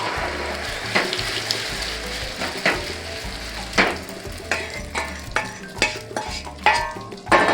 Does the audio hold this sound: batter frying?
yes